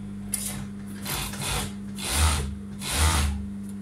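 Overlock sewing machine stitching trousers, running in several short bursts with a steady hum and rhythmic whirring pulses, fairly quiet and alone.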